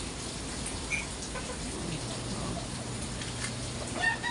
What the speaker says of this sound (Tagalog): Yan na ang ulan